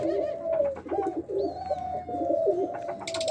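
Doves coo nearby, a laughing dove paired with a domestic dove, giving soft repeated rolling coos in a steady rhythm, with faint chirps and some background noise.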